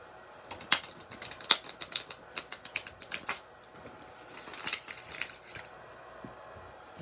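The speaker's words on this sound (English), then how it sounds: "Let me show you how it shuffles." A thick tarot card deck is shuffled close up: a quick series of crisp card snaps and flicks, then a riffling rush of cards falling together, quiet and alone.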